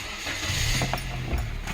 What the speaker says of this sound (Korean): 이렇게 엔진 소리가 정숙합니다